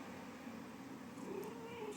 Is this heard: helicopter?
no